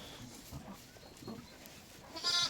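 A ewe in labour with a lamb bleats faintly near the end, a short rising cry over low barn rustling and shuffling.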